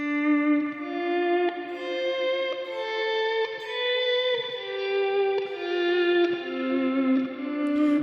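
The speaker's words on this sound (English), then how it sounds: "Or maybe like an auto swell kind of reverb." Clean electric guitar notes through a reverb pedal in auto swell mode, each note fading in softly and then blooming into a sustained ambient wash, one after another in a slow, steady rhythm.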